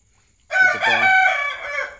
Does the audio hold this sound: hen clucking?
yes